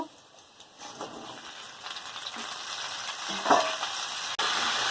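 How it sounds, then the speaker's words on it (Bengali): Potato and kohlrabi frying in a home kitchen pan give a steady, close sizzle with occasional stirring scrapes, continuous throughout and without talk. "এবার এর মধ্যে ওলকপিটা দিয়ে দেব"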